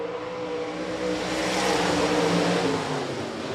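Stock cars racing at Rapid Speedway under green flag conditions, a steady, loud roar of several engines blending together and swelling slightly midway, with no talk over it.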